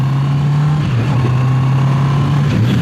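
A Honda CB650R motorcycle with E-Clutch revs as it rides off, a loud, close engine drone that holds steady, dips briefly as it shifts, then climbs again.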